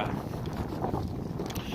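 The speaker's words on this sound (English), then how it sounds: "It's a bit windy, bit of a breeze going." Steady wind rumbles and buffets across the microphone in a snowy winter forest in Russia, a continuous low roar with no voices.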